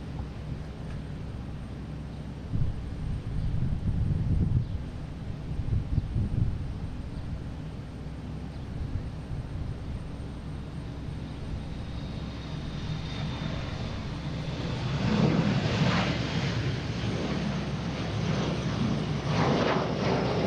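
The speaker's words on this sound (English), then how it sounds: "next taking off, we have Delta heading to Milwaukee, E175" Delta Embraer E175 regional jet taking off at Boston Logan, a steady engine roar that swells from a distant rumble to a louder, closer thrust in the final seconds, with no talk over it.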